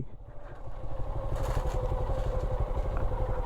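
A motorcycle engine labors with a low, heavy rumble and some clattering, running steadily close by on a difficult mountain road in Mirinja Valley.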